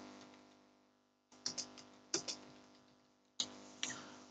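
Quiet clicks of a computer keyboard in a few short bursts, each a small cluster of taps separated by pauses, close and soft over a low hum.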